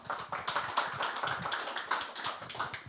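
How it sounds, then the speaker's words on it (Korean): Audience applause at a startup demo day welcoming the next presenter: a dense, steady patter of many clapping hands, fairly close and sustained for three seconds with no talk over it. "여러분 박수로 환영해 주시기 바랍니다"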